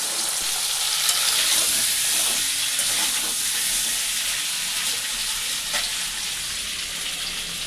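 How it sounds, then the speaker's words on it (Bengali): Potatoes fry in hot oil left from frying flat beans, giving a loud, continuous close-up sizzle with steady hiss that runs unbroken through the clip, with no voices. "এই তেলের মধ্যে আমি এই আলু ছেড়ে দেবো"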